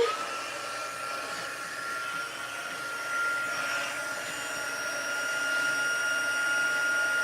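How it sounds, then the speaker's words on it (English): A handheld heat tool used for card making blows with a steady, loud, whirring hiss that holds constant for several seconds, close by, with no voices. "now I'm going to use the heat tool"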